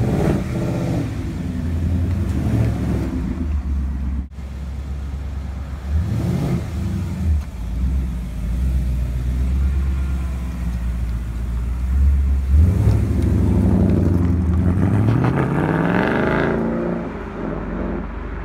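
A Ford Mustang 5.0 V8 idles loud and close after starting, its deep rumble rising in several throttle blips and revs before settling back to a steady warm-up idle.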